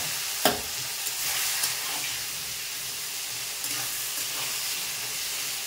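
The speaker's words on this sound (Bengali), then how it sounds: "বেগুনটা একটু ভেজে নিয়ে গাইস" Eggplant pieces fry in a pan with nigella seeds, giving a continuous, close sizzle and hiss with a few sharp clacks of a spatula stirring.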